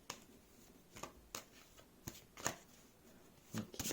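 Tarot cards being shuffled by hand, close and quiet, with a series of crisp riffling bursts at irregular intervals over a faint background.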